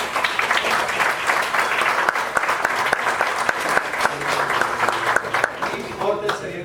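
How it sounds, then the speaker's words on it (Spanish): A lecture hall audience gives a sustained round of applause, dense and steady clapping throughout before tapering off at the very end. "les pido un fuerte aplauso para Cleopatra"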